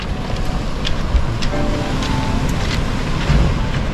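Waves at Ingonish Beach on Cape Breton Island, a continuous rushing surf with wind noise, a faint engine-like hum in the background and a few small clicks.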